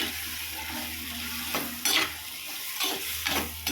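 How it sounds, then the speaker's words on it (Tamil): Cut vegetables (eggplant, drumstick, raw mango) stirred and sautéed with softened tomato in a clay pot for dried fish curry, a steady close sizzle broken by scraping stirs. "சேர்த்து நல்லா வதக்கலாம்."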